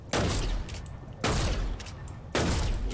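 Three loud, booming sniper rifle shots from the Storm Scout in Fortnite, spaced about a second apart, each a sharp crack with a long rumbling tail.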